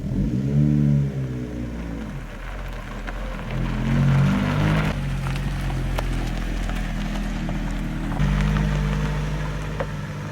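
A Toyota MR2 Mk1 engine drones steadily while driving, rising and falling in pitch through gear changes, with a close, continuous hum and rumble throughout.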